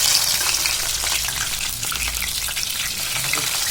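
Cinnamon, cloves and onions fry in hot oil for chicken curry, a steady dense sizzle filling the whole stretch with faint stirring scrapes and no voices.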